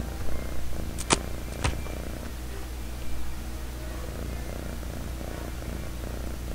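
Cats purring in the video game Postal 2, a low steady rumble running under the scene along with a couple of sharp clicks.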